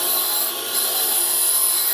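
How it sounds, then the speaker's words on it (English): A tungsten TIG welding electrode is ground to a cone, giving a steady, loud, hissing whine of an abrasive grinder held against the rod, continuous throughout without pauses. "I'll have to grind the powder of the tungsten before I weld"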